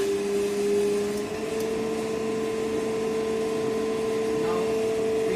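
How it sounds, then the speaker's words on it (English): DC shunt motor being started with a 3-point starter in an electrical lab, giving a steady electrical hum with a strong sustained tone and constant whir throughout, no speech. "We are going to start the DC shunt motor by using 3-point starter."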